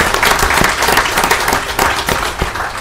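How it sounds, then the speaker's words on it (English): Applause from the audience at a city council meeting fills the room, a dense, steady round of clapping that carries on without a break. "I want you all to give them a round of applause"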